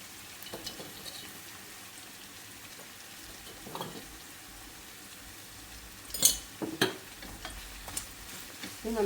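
Food frying in a pan and being stirred just after salt goes in, a low steady sizzle with intermittent scraping stirs, louder clatter around the middle and near the end, no talking.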